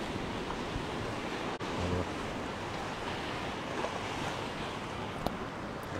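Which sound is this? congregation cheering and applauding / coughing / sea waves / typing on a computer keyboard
sea waves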